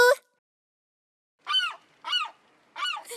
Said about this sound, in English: Caw, caw! Seagull sounds too.